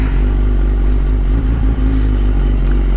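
A Suzuki GSX-R 1000 litre sport bike rumbles close by as the clutch is eased out with no throttle, giving a steady low engine drone with faint mechanical clatter.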